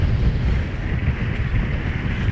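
Steady wind and rushing waves surround the sailboat Tally Ho under sail in choppy conditions, a constant loud wash and buffeting with no voices.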